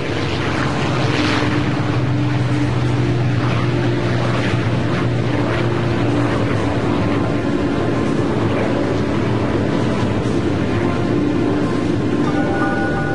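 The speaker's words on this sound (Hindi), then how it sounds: "B-29 सुपर फोर्ट्रेस बॉक्सकार ने उड़ान भरी।" A B-29 Superfortress propeller bomber, Bockscar, taking off: a steady, loud, droning engine roar with humming propeller tones that holds unbroken throughout.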